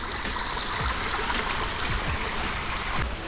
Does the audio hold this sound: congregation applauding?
no